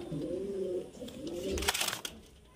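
Giribaz high-flyer pigeons coo nearby in a low, rolling, repeated call, followed by a brief burst of scuffling or flapping noise.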